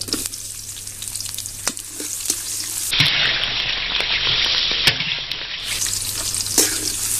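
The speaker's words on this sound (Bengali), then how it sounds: "পেঁয়াজগুলো লাল করে ভেজে নেব" Chopped onions fry in a pan of hot oil for a Bengali chickpea bhuna, a steady close sizzle that surges louder midway, with a few sharp clicks of stirring and no talk.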